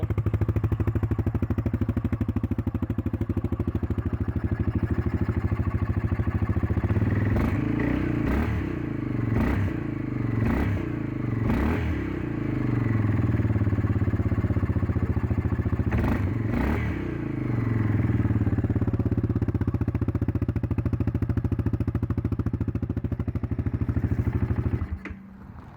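A loud 2020 Yamaha Grizzly 700 ATV engine, running with its exhaust baffle removed, idles with a steady putter, revving in a few sharp bursts before settling back to a rough idle and cutting off.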